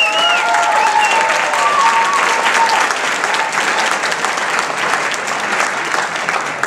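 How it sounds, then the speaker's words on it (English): Sustained loud audience applause and cheering greeting a judge at the Linnaean Games, an entomology quiz event at the 2009 ESA Annual Meeting in Indianapolis, steady dense clapping from a crowd throughout with a few whistles early on. "Let's hear it for Susan Weller."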